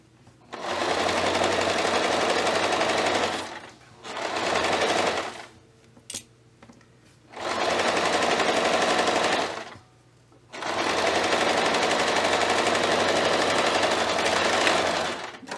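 A sewing machine stitching twill tape onto a towel apron, running in four long, fast, steady bursts separated by brief pauses, loud and close with no talk.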